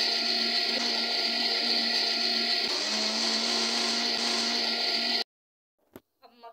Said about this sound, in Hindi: अब जूसर में इसका मक्खन और लस्सी बनाएंगे।